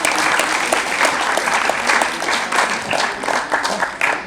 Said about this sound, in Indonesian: Kita beri aplaus sekali lagi buat narasumber kita.